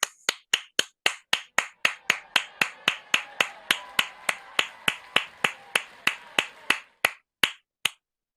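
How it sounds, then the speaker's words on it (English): Sharp claps ring out at a university graduation ceremony in a crisp, evenly spaced series of about twenty-five loud, close strikes with brief decays, slowing slightly near the end. "I'd like to give you a big round of applause."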